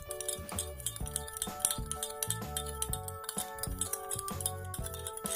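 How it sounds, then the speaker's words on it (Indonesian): A spoon clinks rhythmically against a glass while stirring sugar into a homemade cough remedy, bright repeated metallic chimes and taps in quick succession. "Kemudian kita aduk hingga keduanya tercampur merata"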